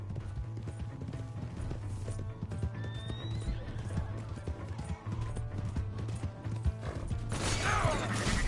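Horse hooves clip-clop steadily through a Red Dead Redemption 2 game scene, with a clear whinny rising partway through, a mechanical ratcheting texture underneath and a louder burst of noise near the end.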